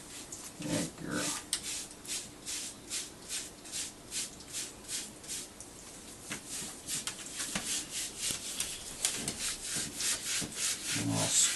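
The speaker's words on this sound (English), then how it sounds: "And I'll scrub that smelly spot pretty good." Hands scrub a dog's wet fur with oatmeal shampoo, making soft rhythmic rubbing and squishing strokes close by. The scrubbing repeats steadily throughout, with brief murmurs of a voice here and there.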